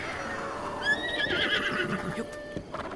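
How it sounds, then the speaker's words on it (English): A summoned horse in the video game Zelda: Breath of the Wild lets out a single bright, clear whinny, with soft game ambience and faint hoofbeats around it. "Now we'll summon our horse, which is in Hatno village, but conveniently he will appear here."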